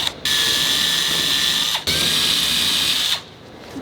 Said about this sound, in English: Drill this out and make the hole bigger so the screw has room to go in there behind it